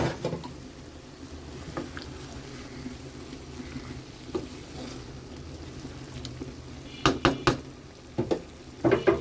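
Fish fry in a pan with a steady low sizzle while onions, tomatoes and green chilies wait nearby. Sharp clatters and scrapes of a utensil stirring against the pan break in a few times near the end.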